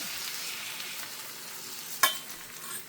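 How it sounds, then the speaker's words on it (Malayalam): Beaten egg mixed with pepper poured into a hot pan, giving a faint, steady sizzle of frying with one sharp clink of a utensil partway through and no talking. "ഞാൻ ഇതിലേക്ക് അടിച്ചു വെച്ചിരിക്കുന്ന കുരുമുളക് ഒക്കെ ചേർത്ത് നമ്മുടെ മുട്ട ഒഴിച്ചു കൊടുക്കുകയാണ്"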